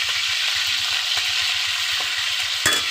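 Steady, close sizzling of tuna (tulingan) frying in hot oil, a dense crackling hiss with a faint low pulsing beneath, and a brief clatter near the end.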